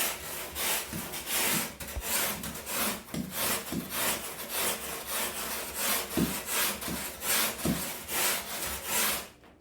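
Rhythmic rasping strokes of a sanding board on a wind foil board, repeated back and forth at a steady pace, close and clear with no talking.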